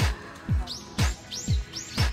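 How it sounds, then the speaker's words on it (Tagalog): A bird gives a quick, bright chirp about every half second, five or so in a regular rhythm, each one sharp and close with low thumps between them. "nagalit yung ibon"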